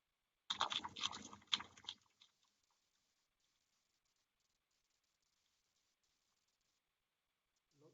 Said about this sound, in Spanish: Lo que ellos escucharon ustedes fue los chasquidos que capta el hidrófono